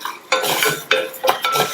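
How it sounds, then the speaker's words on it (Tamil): Sago pearls dry-roasting in a pan for payasam while being stirred, making scraping, rustling strokes in a steady rhythm of several close, fairly loud passes. "ஜவ்வரிசி நல்லா பொரியிற அளவுக்கு வறுத்துக்கங்க."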